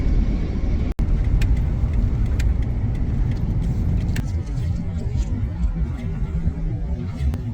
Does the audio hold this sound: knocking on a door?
no